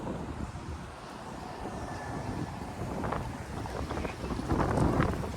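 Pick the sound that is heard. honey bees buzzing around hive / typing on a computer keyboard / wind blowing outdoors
wind blowing outdoors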